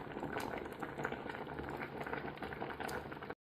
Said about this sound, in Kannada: ಕುದೀತಾ ಉಂಟು